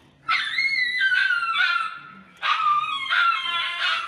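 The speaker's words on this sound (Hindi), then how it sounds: "गाइज, कुत्तों की आवाज़ आ रही है बाहर से।" Dogs bark outdoors in two sharp, whining bursts separated by a short pause, fairly close and loud, with no talking.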